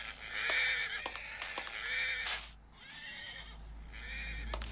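Horses whinny in the Minecraft video game at an equestrian centre, several high, shaky neighs in quick succession, fairly close and clear over low background rumble.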